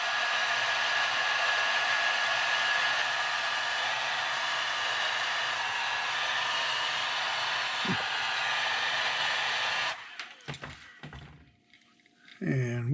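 Steady loud hiss and whir of a heat tool drying painted eyes on a custom-painted Bandits pineapple-colour piece, running continuously before switching off into quieter handling noises and a voice.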